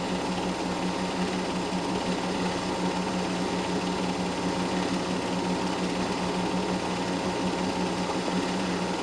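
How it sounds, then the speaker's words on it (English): A front-engine Formula Junior race car, a little red one running well during a race, makes a steady, buzzing engine drone that holds evenly for the whole stretch with no voices. "Well, front engine Formula Junior, the little red car is running pretty well."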